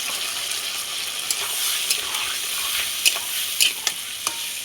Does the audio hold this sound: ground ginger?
yes